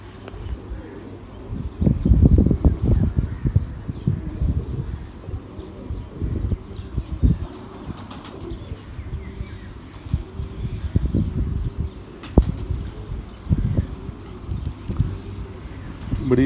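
Female racing pigeon cooing close by in a loft, soft repeated low coos mixed with bursts of wing flapping and rustling, moderately quiet with some background noise.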